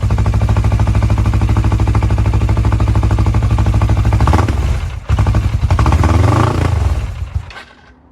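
A Suzuki GS500 cafe racer motorcycle runs with the choke slightly on, its engine a loud, steady, close putter that briefly cuts out near five seconds, then picks back up unevenly before fading at the end.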